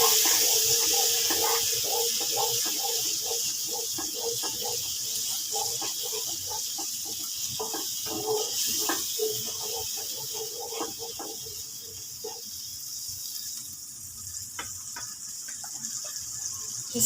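Water with turmeric, chili, salt and jaggery coming to a boil in a pan for wheat-flour upma gives a steady hiss with scattered small pops and bubbles throughout, close by and without talk.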